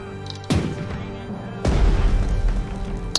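Artillery guns firing in the naval strategy game Strategic Mind: The Pacific, at the Battle of the Coral Sea: two heavy booming blasts, the second louder and deeper, each trailing into a rumbling roll with no voices over it.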